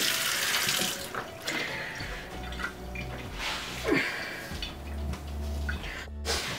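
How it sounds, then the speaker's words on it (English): Tap water runs steadily into a kitchen sink as freshly caught kokanee are rinsed under it, with splashing and gurgling shifts as the fish move through the stream, close and continuous. "We're just gonna rinse them off. Just gonna rinse them off in the sink."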